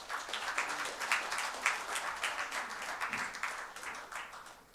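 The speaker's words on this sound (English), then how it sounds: "Ladies and gentlemen, a big round of applause." Steady applause from a conference audience at the inaugural session of a national auditors' conference, many hands clapping together at a fairly even level for the whole stretch, with no talk over it.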